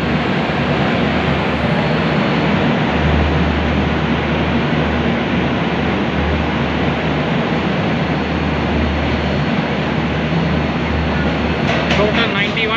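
A loud, continuous rumble of the Trivandrum Rajdhani Express exiting a tunnel on the Konkan Railway, a deep low roar and broad rushing noise, steady throughout, with a brief rattle near the end.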